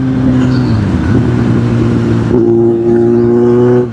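A motorbike engine pulls hard in sixth gear on a road ride, a loud steady drone with a pitch wobble near the start and a smoother, steadier tone after the midpoint, heard close with no talk.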